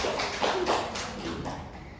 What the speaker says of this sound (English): Let's give applause to us